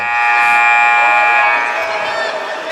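A phone camera's timer beeps in a steady, piercing electronic tone that sounds continuously through the whole stretch inside the Raider Dome gym during a girls' varsity basketball game, loud against a faint arena murmur.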